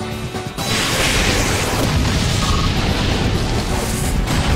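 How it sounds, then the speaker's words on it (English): The Explosion move detonates in a Pokémon Battle Revolution Wi-Fi doubles battle, a loud, sustained crashing blast that starts abruptly and roars on for several seconds. "Annihilated by explosion!"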